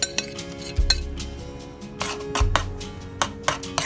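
Stuffed flounder or sole fillet set into a buttered pan in a home kitchen: two soft low thumps with clinks and scrapes of utensils and pan, close and fairly quiet, no talking.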